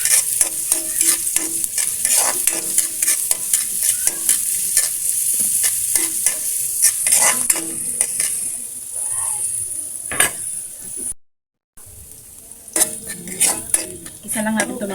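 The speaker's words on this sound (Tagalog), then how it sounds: "Magigisa na tayo ng ating mga ricados. Lagyan natin yung ating bawang at sibuyas." Garlic and onion sautéing in a pan for ginisang sayote, with steady sizzling and frequent metallic clinks and scrapes of a utensil stirring, and a brief dropout near the end.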